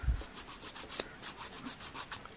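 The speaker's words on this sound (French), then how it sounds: "Du coup, je viens poncer légèrement. J'ai aussi poncé au-dessus." Light, rhythmic rubbing strokes of a file or buffer lightly sanding an acrylic nail, each pass a soft scratchy swish repeating steadily at close range with no talking.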